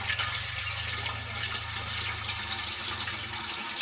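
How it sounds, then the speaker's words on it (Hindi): Muddy water and gas gushing from an opened valve on a pipe pushed down into the ground, a steady, rushing hiss of flow with a low rumbling undertone, continuous and close. "ये देखिए वाल को किया ऑन, ये देखिए इतनी गैस मिट्टी आ रही है"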